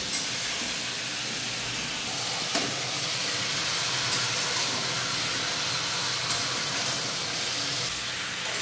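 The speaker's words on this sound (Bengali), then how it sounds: "এখন কুমড়োটা ভালো করে আমি একটু কষিয়ে নিই" Pumpkin pieces with turmeric and salt being sautéed in a pan, giving a constant, even hiss of sizzling with a few faint clicks of stirring throughout.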